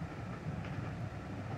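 Steady low rumble inside a moving train compartment, a continuous muffled rolling hum with no breaks, fairly quiet and with no voices.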